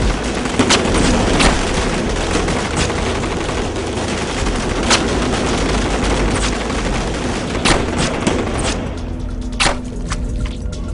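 Gunfire in an action movie scene cracks out in rapid, loud volleys and single shots over a dense rumbling bed, with bursts spaced irregularly throughout.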